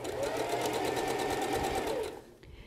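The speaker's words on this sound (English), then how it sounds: "now that I'm sewing through this" A sewing machine stitches fabric with a fast, even whir at close range, then stops abruptly near the end.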